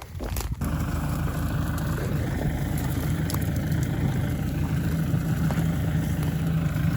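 A big old tractor engine runs steadily close by in a field, a continuous low rumble with no pauses, alone without talk, where a wrecked 2000 VW TDI Jetta is being dug out.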